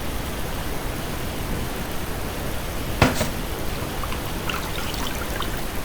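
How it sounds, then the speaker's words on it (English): Tap water runs steadily at a kitchen sink during handwashing, a continuous close hiss with a brief clatter partway through and a few faint knocks near the end. "Again, washing my hands."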